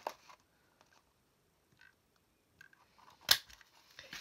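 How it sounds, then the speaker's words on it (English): Scissors snip a small thumb hole in paper for a mini journal folio, with a few quiet, scattered cuts and one sharp, louder snip near the end. "So I'm going to use the first marks to cut a little thumb hole."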